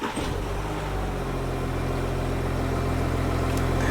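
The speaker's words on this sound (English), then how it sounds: "I'm going to start the engine." An Audi Q7 with a low-power limp-home fault idling: a steady, loud engine hum with a constant low drone that holds unchanged throughout, with no talking.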